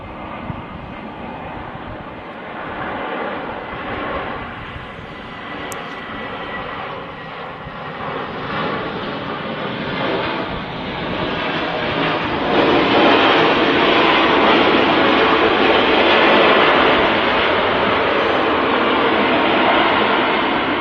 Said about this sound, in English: Was A321 with them IAE engines as well.